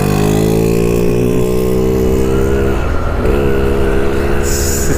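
A Rajdoot 175 two-stroke motorcycle is ridden in second gear on a long ride, its engine buzzing loud and steady with a rising pitch, dipping briefly as the throttle changes, with heavy wind rumble and no talking.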